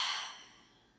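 A single deep, breathy exhale during a morning yoga session, airy and close, fading out over about a second with no talk.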